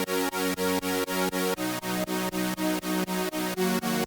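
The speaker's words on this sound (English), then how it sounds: "we can add some movement to it with a tool like this" A sustained synth chord pulses rhythmically under a Volume Shaper LFO plugin, its loudness dipping sharply in a steady chopping pattern roughly four times a second, loud and dense, with no voices.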